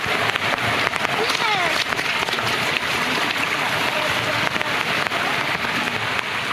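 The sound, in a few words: heavy rain during flood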